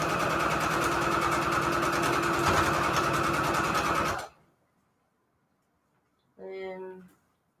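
A sewing machine stitches fabric scraps onto a strip in a loud, steady, close mechanical whir for about four seconds, then stops dead; after a pause a brief voice is heard.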